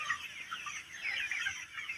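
Chickens on a poultry farm clucking softly and continuously, several birds close by with no talking.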